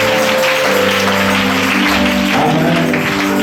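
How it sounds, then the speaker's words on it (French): A crowd at an annual church convention in Bouaflé, Côte d'Ivoire, applauds in a short, loud burst over a humming sound system, with no talk. "Est-ce qu'on peut lui donner une acclamation?"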